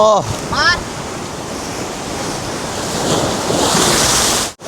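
Sea waves surge and wash continuously at Digha Mohana beach, a loud broadband roar with heavy wind buffeting the microphone and a brief voice at the start, the surf swelling louder toward the end.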